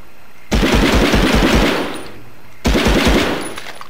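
An MP40 submachine gun fires in the PS1 game Medal of Honor: two loud, sustained bursts of rapid automatic fire, each a dense rattle of shots with no talk over them.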